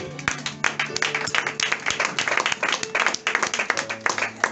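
A church congregation claps during a worship service, a dense, steady patter of many hands with voices mixed in and a low tonal hum underneath.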